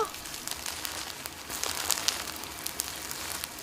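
Green tea leaves roasting in an iron cauldron give off a steady dense crackle and pop, like fine sizzling with sharper snaps scattered throughout, close and moderately quiet with no talking.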